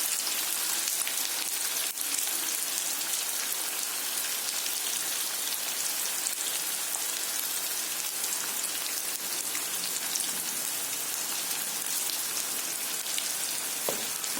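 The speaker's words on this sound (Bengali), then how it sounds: "এটা পেঁয়াজটারে একটু ভালো করে ভাজা করতে লাগবো" Onions salted in a pan fry with a dense, even sizzle that runs unbroken and fairly soft for the whole stretch, close by and without speech.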